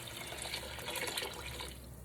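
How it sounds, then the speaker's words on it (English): Chicken stock and water poured into a pan for Louisiana-style red beans and rice, a steady close splashing pour that runs evenly for about two seconds before easing off. "I have here a combination of chicken stock and water. I'm going to add that to the pan now."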